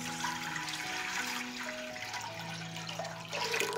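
A litre and a half of water poured into a cooking pot for a marinade, a steady close-up gush whose hollow resonance shifts in pitch as the pot fills, with no voices.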